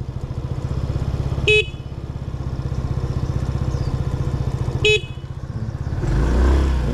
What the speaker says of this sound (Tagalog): Kasi kahit yung busina niya mga ka-adventure, gumagana.